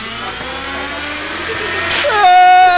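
Desktop toy helicopter rotor spinning at full throttle, a loud, close electric whine that climbs steadily in pitch, then shifts abruptly near the end.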